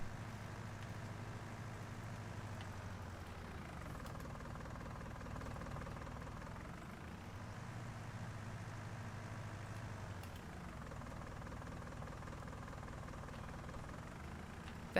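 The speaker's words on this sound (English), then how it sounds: "This tractor is so slow." Tractor engine in Farming Simulator 19 runs steadily at a low drone, its tone rising and falling in slow repeating cycles with no talk over it.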